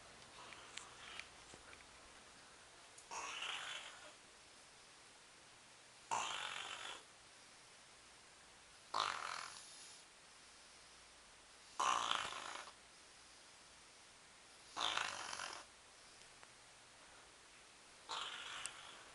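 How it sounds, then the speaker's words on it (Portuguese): Snoring from an older woman asleep at night, coming as six loud, raspy breathy bursts about every three seconds, each resembling a fart, with quiet background between. "Eu vou filmar minha sogra roncando."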